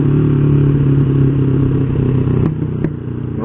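Honda Revo motorcycle fitted with a BRT Type S1 camshaft, its exhaust running at low RPM with a steady, loud putter close by, settling slightly after a couple of faint clicks near the end.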